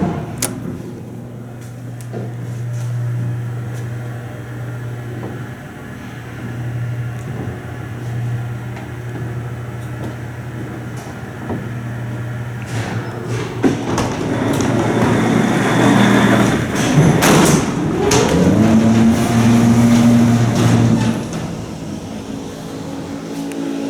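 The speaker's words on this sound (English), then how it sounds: "So we're going to go ahead and start this off by taking a ride on the antique Salem elevator. Let's go ahead and call it down." An antique Salem elevator is called down; a steady motor hum runs, then clanks, thumps and rattles build as the car arrives and its doors and gate move, fairly close with no talk.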